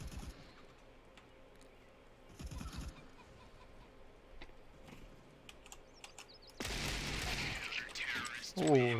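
Faint keyboard clicks and sparse taps give way to a loud, sustained burst of gunfire in the video game CSGO near the end.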